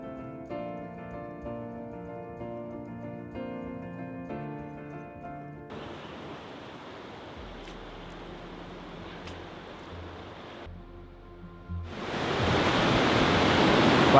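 A flooded river rushes through eight open weir paddles, a steady broadband roar that takes over after a stretch of music and swells louder near the end.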